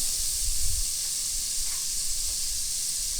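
Onions sizzle in hot oil in a pan while a red lentil curry is being cooked, giving a steady, even hiss that lasts the whole time, moderately loud and close, with no talking.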